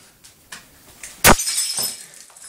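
A dish or glass smashes hard on the ground in a single loud, close crash, followed by scattered tinkling fragments and a few faint knocks.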